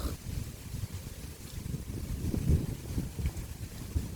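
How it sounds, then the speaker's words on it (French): A buffeting gust of wind battering an outdoor microphone, low rumbling turbulence that swells and surges unevenly over a few seconds, fairly close, with no talk. "La rafale de vent, on adore."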